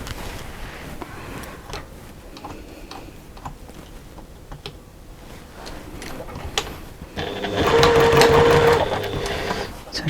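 A sewing machine stitches a beach bag seam, first a light ticking patter, then a louder steady motor whir for a couple of seconds near the end.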